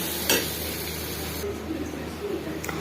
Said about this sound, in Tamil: இப்போ பார்த்தீங்கன்னா இது நல்லா ஃப்ரை ஆகிட்டு இருக்கு